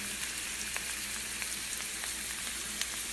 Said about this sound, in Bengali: এবার গরম তেলে থেতু করা গরম মশলা দিয়ে দিলাম অনেকখানি পেঁয়াজ, আদা বাটা, রসুন বাটাও দিয়ে দিলাম।